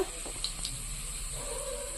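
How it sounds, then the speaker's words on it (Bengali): Cumin seeds and torn dried red chilli sizzle in hot oil in a kadai, a soft, steady hiss with a few faint crackles and no voices. "কড়ার তেল গরম হয়ে গেছে, আমি জিরের ফোড়ন দিচ্ছি আর শুকনো লঙ্কাটা দিচ্ছি ছিঁড়ে"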